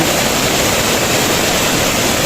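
Heavy rain pours down while mountain water rushes in a flood, a loud, steady broadband roar that fills the whole clip without a break.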